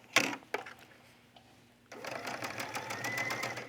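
A sewing machine stitching a collar onto a top gives a couple of short clicks, then a steady close whirring run of stitching.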